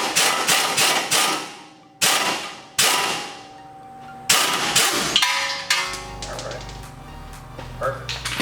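Hard hammer blows on a 2018 Ford F-150 suspension part during a leveling kit install to separate it: several sharp metallic clangs that ring on, spaced irregularly and loud up close, followed by rattling.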